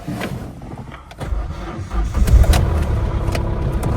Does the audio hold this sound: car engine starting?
yes